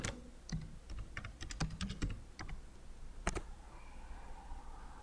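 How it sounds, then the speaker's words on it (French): A URL is typed on a computer keyboard during a Laravel web development session, with a short run of close, crisp key taps and one final louder press before quiet room tone. "si je tape l'adresse URL /student"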